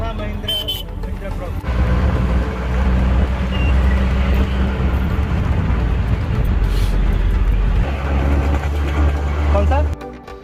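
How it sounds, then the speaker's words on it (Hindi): Dense Mumbai road traffic with cars, buses and trucks rumbling continuously up close, engine drone steady throughout and a horn toot early on, with voices talking over it. "ट्रैफिक आज इतना है ना, इतना ट्रैफिक है जिसका कुछ बहुत ज़्यादा है।"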